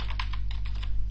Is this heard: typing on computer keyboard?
yes